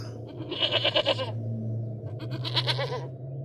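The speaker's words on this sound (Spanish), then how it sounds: "empecé a escuchar un ligero balar de una cabra." A goat bleating softly in open farmland, two short wavering bleats a second apart over a steady low hum of background noise, fairly faint and without talk.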